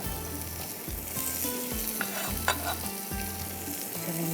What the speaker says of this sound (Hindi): अब आपने हल्का ये देखिए साथ साथ में गार्लिक फ्राई हो रहा है